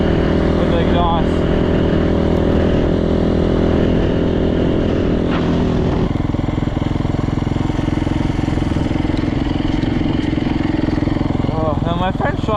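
A rebuilt Yamaha YZ450 dirt bike engine runs close by in cold weather, a loud steady drone with small throttle changes, while a rider talks over it.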